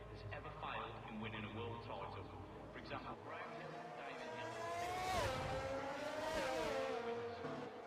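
Race cars leaving the pits onto the Monza track in a racing game, their engines rising and revving with gear-change pitch sweeps and growing louder, under steady commentary.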